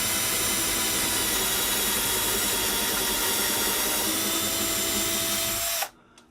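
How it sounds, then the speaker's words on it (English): A power drill with a 1/4 inch bit pre-drills holes for mounting a wall barbell rack, running steadily and loudly for several seconds before stopping abruptly. "So I'm just using a 1/4 inch drill bit."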